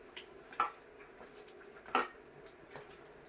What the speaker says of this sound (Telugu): ఇప్పుడైతే మా డాడీ మిక్స్ చేస్తుండు